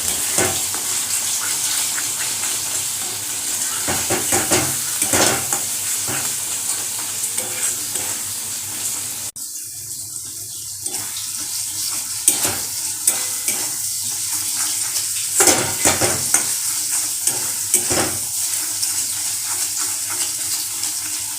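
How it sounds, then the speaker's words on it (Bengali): Spice paste of turmeric and a little sugar fries in oil for a chicken and potato curry, a continuous close sizzle with repeated scraping strokes of a spoon against the pan and a brief rush of water partway through. "এই মশলাটা ভালো করে কষাবো যতক্ষণ না তেল ছাড়ে"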